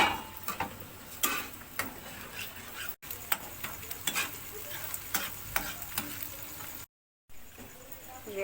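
Vegetables for chicken and vegetable fried rice sizzle and get stirred in a pan, with scraping utensil strokes over a steady frying hiss and a couple of brief gaps.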